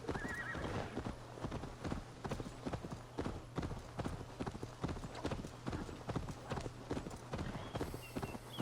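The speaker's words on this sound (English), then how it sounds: "Ah, cavalo." A horse in the video game Assassin's Creed Valhalla, with a brief whinny near the start and then a steady rapid clip-clop of hooves at a trot, close and continuous, with a player talking briefly.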